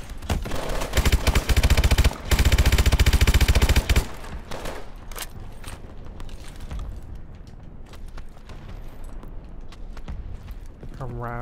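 Automatic gunfire in Call of Duty: Advanced Warfare, with loud rapid bursts packed densely into the first four seconds, then scattered shots and footsteps-like clatter under quieter game sound.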